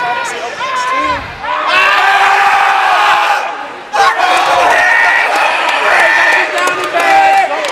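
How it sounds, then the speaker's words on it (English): Loud crowd of spectators cheering and shouting at a high school basketball game between Girard and Chanute, sustained roar with a brief dip midway before swelling again. "As you can tell by the cheering section"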